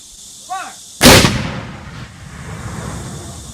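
A historic cannon fired by a demonstration crew at Wilson's Creek battlefield booms once, loud and close, with a sharp blast that rolls off into a long fading rumble, preceded by a brief shouted command.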